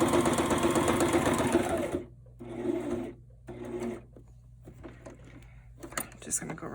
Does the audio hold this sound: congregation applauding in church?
no